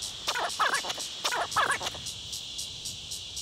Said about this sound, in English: There's a simpler way to hear the songs of insects.